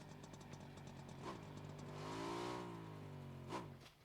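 A scooter engine in a PUBG match revs and drones steadily, its pitch rising and falling as it accelerates, with a couple of sharp shifts along the way; no talk over it.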